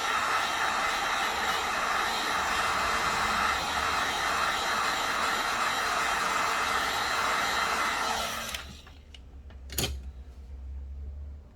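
A heat blower drying alcohol on an iPhone during repair, a steady loud airy roar running continuously before cutting off abruptly, leaving a low hum and a single sharp click.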